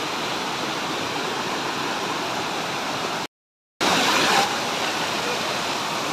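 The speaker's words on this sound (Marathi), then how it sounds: "बाजूला खूप जोरात असा आवाज यायला लागला वॉटरफॉलचा" The Zenith waterfall near Mumbai thunders as a dense, constant roar of falling water during the monsoon, loud and close, cut by one brief total dropout before returning at full strength.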